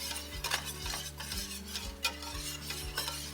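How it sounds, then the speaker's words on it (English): A spoon stirs flour into a Cajun-style shrimp scampi sauce in a pan, producing rhythmic scraping strokes about once a second over a soft sizzle, close and quiet with no talking. "Now we're incorporating the flour"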